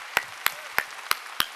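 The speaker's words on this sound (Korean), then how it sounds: "박수 세게 치라니까 세게" A church congregation at a Sunday worship service claps hands in five crisp, evenly spaced beats, sharp and moderately faint with quiet gaps between.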